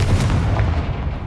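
A Confringo fire spell explodes in Hogwarts Legacy, a loud, heavy blast with a deep rumble that fills the whole short moment with no gap.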